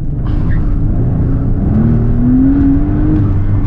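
Mercedes SL65 Black Series twin-turbo V12 at full throttle in manual mode, a loud, close engine roar rising steadily in pitch as it revs toward redline.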